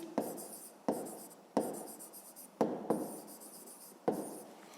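Math notes for a fifth-grade word problem written by hand, heard as five distinct scratchy writing strokes in a steady rhythm, each starting sharply and trailing off, close and quiet with no talk.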